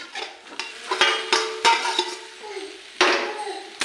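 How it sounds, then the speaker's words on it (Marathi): Steamed aubergines stirred into masala frying in oil in a pan, with repeated scraping strokes of a spoon and a steady sizzle, close and fairly loud with no talk. "आता जी आपली इथं वाफवलेली वांगी आहेत त्याच्यामध्ये टाकून घ्यायची"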